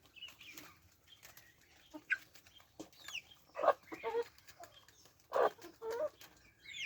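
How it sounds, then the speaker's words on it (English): Kienyeji chickens on a farm cluck and call in scattered bursts, some close and loud, others softer, with brief flapping and quiet gaps between calls. "These chickens are continuing to multiply"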